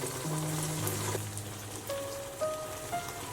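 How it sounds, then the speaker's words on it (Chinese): Chili and egg fry slowly on low heat in an oiled wok, a soft, even crackle like light rain that stays steady and close with a few faint tonal hums. "我们全程小火慢煎"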